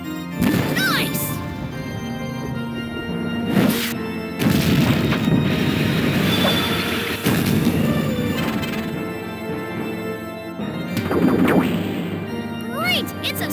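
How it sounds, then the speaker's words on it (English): A super finishing attack in the Mushiking beetle fighting arcade game, heavy booming crashes and thuds in repeated bursts with sweeping electronic effects, loud and close throughout. "It's a super finishing attack!"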